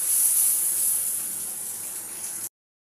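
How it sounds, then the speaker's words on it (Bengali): Water pours steadily into a cooking pan of frying spices for prawn malaikari, a close, hissing gush lasting a couple of seconds before cutting off abruptly. "একটু জল দিয়ে দিয়ে কষিয়ে নেবো বন্ধুরা।"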